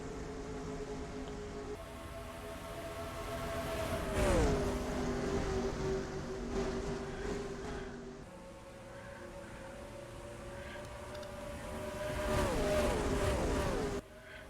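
Race cars roaring around the Las Vegas oval in the NR2003 racing game, a steady engine drone with pitch swoops as cars pass and shift, loud and continuous with no talk.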